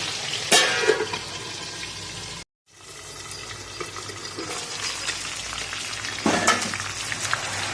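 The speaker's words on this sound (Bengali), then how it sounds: "এই মাছগুলো মাগুর মাছগুলো ভাজছি, তো চাপা দিয়ে ভাজতে হবে, নাহলে ছিটতে হবে।" Magur catfish sizzles and crackles steadily in hot oil up close, fried covered, with louder spattering bursts near the start and end and a brief silent gap.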